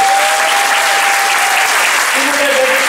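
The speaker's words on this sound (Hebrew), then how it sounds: "תנו להם מחיאות כפיים" A comedy-show crowd applauds loudly for a couple during a stage marriage proposal, a thick roar of clapping close and continuous from start to finish, with a voice speaking over it.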